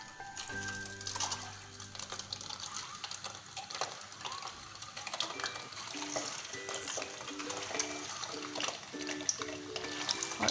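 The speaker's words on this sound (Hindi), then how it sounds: "और इसी तरह से हम अंडों को अच्छे से फ्राई कर लेंगे।" Egg whites frying in hot oil in a kadai, a low steady sizzle with stirring scrapes and light metallic clinks, while soft music with sustained tones plays underneath.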